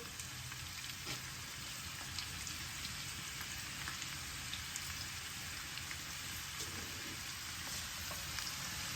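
Large chopped onions fry in about a cup of oil in a pan, a soft, steady, rain-like crackling sizzle that carries on evenly and faintly throughout, with no voices.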